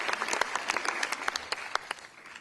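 Applause from the audience at a Peter Morrissey fashion talk, individual claps clearly separated and sharp, a moderate crowd clapping briefly and then thinning out toward the end.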